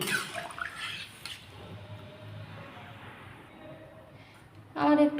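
Water poured into a pot of drumstick pieces and potatoes on a stove, a steady splashing wash under continuous talk, tapering off before a brighter clatter near the end.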